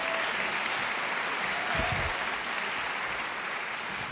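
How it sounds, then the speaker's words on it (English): A large audience at the European Film Awards ceremony in Reykjavík applauds steadily, a dense continuous clapping filling the hall for several seconds, with a brief swell of low crowd noise in the middle. "That's for Bergman, the applause."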